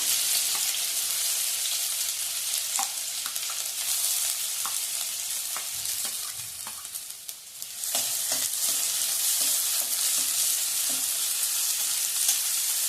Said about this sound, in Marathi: आता तेल गरम झालेलं आहे, त्यामध्ये मी घालते 1 बारीक चिरलेला कांदा